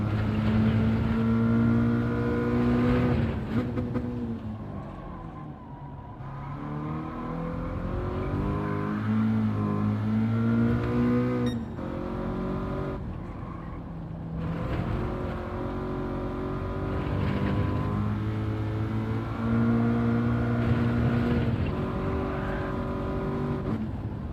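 Toyota 86 or Subaru BRZ engine in Gran Turismo 7 racing at Tsukuba, revving loudly and continuously with gear changes and rising and falling pitch, close and steady without a break.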